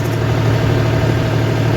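Mahindra tractor engine running on a farm, a steady low idling drone heard close and loud without a break, no voices.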